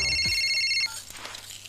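Telephone rings in a Hindi comedy film scene, a bright electronic ring that sounds loudly for under a second and then stops, leaving quiet room tone.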